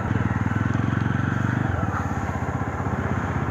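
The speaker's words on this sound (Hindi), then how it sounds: "चलो इंजन वार्म अप कर रहे हैं" A Java motorcycle and a KTM Duke idle side by side while warming up in the morning, a steady low engine rumble with close, continuous exhaust pulsing that shifts slightly in pitch partway through.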